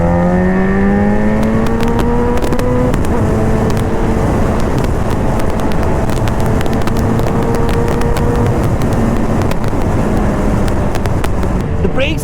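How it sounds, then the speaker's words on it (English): A BMW S1000RR sport motorcycle engine revs hard to its 14,000 RPM redline in second gear with rising pitch, shifts, and keeps roaring at high revs under steady wind noise, close to the listener. "I guess I redlined in the second gear."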